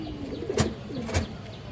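Pigeons coo at a farm where birds are kept for sale, two soft rounded calls about half a second apart, close by over a faint background hum.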